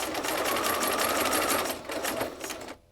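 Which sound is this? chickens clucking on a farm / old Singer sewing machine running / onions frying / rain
old Singer sewing machine running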